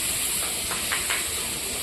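Chopped tomatoes hitting hot oil for a mutton-gravy ghugni, a steady close hiss of sizzling with a few brief spitting bursts, no talk.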